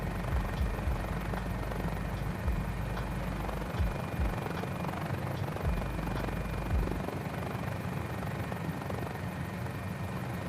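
A Mini-500 light helicopter in a flight simulator runs with a steady, dense rotor and engine drone, loud and unbroken, with low rotor thumps under the hum.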